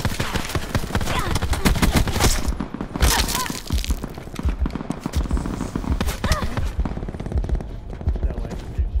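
Dense gunfire in the Alcatraz Blackout video game, with rapid repeated shots rattling loudly throughout and a voice talking over the action.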